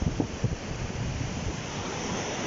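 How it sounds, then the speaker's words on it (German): Black Sea waves and wind on the shore, a continuous close roar of surf with gusty wind buffeting the microphone and no voices. "Und das Meer im Hintergrund."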